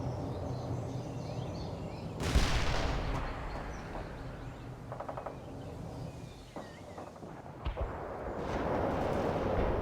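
Incoming artillery fire in the strategy game World in Conflict, several heavy booming impacts spaced apart over a continuous low battlefield rumble, fairly faint and distant.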